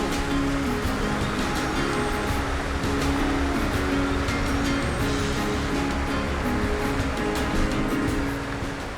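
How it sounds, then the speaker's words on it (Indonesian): Heavy rain drums steadily on a vehicle travelling the Ciparay–Cisanti–Pangalengan route, a dense, unbroken roar of downpour over a low engine hum, loud and close throughout. "hujannya cukup lebat sekali. Hujan deras"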